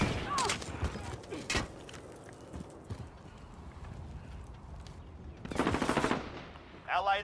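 Light machine gun fire in an online shooter video game, with several sharp bursts of rapid shots spread across the clip, the loudest clusters near the end, over quieter in-game background noise.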